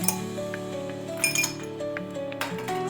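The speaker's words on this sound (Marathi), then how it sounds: "आता मी बर्फाचे तुकडे टाकून घेते." Ice cubes drop into a glass for chilled mint buttermilk, giving several bright, close clinks and rattles scattered over a few seconds.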